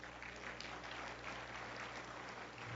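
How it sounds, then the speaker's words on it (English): Audience applause fills the room at an awards luncheon, a continuous, even patter of many hands that sounds fairly distant and quiet, with no voices rising above it. "a round of applause."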